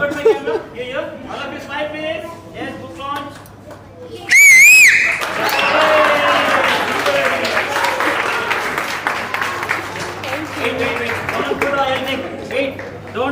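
Children and adults at a young authors' book launch let out a loud, sharp whistle. It breaks into cheering and clapping, with more whistles and chatter mixed in, and people talk before and after.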